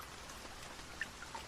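Rain falling as a sound effect in a Hindi audio drama, a faint, soft hiss with a few scattered droplet taps, heard alone without speech.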